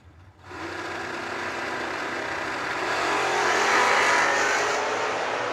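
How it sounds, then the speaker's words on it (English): A hot rod and a Mopar drag racing car launch down the strip, a sudden engine roar that swells and holds at a distance with no talk over it. "Got the hot rod down 581 this morning, and the other guy, Shane Daughtery, in the Mopar"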